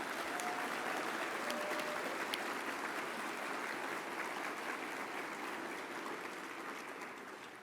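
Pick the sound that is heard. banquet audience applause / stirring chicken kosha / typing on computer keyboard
banquet audience applause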